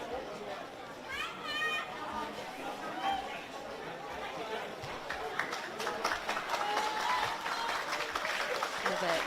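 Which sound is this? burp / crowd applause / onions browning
crowd applause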